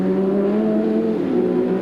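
A 1992 touring race car at Eastern Creek brakes into the hairpin, its engine a steady, close, droning note that sags slightly in pitch, with no voices over it.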